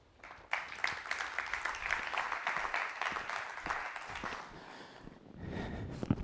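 Audience applause welcoming a speaker at a conference forum, a fairly quiet wash of clapping that starts abruptly, holds for several seconds and thins out, with some murmuring at the end.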